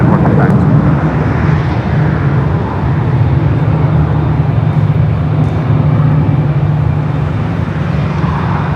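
Boeing 777-200ER jet at LAX airport taxiing, a steady loud broadband engine roar and rumble holding throughout without a break.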